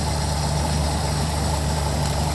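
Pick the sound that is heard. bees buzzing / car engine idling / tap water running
car engine idling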